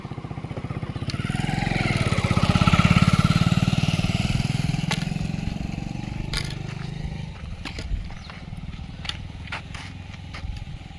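A motorcycle rides past on a village road along the Narmada Parikrama route in rural India. Its engine swells as it approaches, peaks close by, then fades over several seconds, leaving light outdoor clatter.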